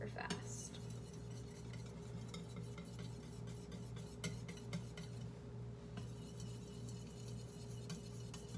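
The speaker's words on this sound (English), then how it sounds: "I'm going to whisk this in it." A whisk clinks and scrapes steadily in a pot as cheese is stirred into a hot roux for cheese sauce, with a continuous close metallic rattle over a low background hum.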